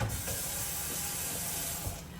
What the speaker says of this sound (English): To our frying pan, I'm just going to go ahead and add in this hamburger meat.